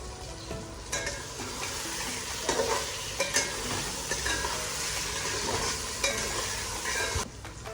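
Masala with boiled eggs frying in a pan for egg biryani, a steady close sizzle under repeated scraping stirs of a spoon against the pan, with no talk.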